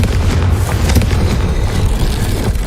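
A Confringo blasting spell goes off in Hogwarts Legacy, a loud, dense rumbling burst with deep low-end booms and crackle that fills the whole moment, no voices over it.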